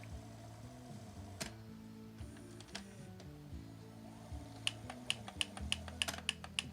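A broken VCR grinding and clicking as its faulty mechanism tries to eject a tape, a low mechanical whir broken by a rapid series of sharp ticks, close and without talk.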